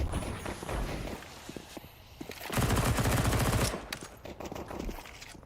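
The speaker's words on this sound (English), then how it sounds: "That's an AK though." Rapid AK rifle gunfire in Counter-Strike 2: bursts of sharp automatic shots, loudest in a sustained volley midway, surrounded by quieter scattered shots and in-game footsteps.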